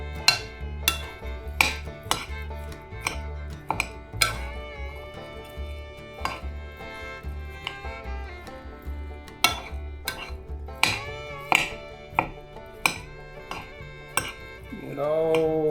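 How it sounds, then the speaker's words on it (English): A sausage casserole mixture is stirred in a pot, with a utensil knocking and scraping against the sides in sharp, irregular clinks over a soft, thick churning, close and clear with no talking. "we're going to stir it together and mix it up real good"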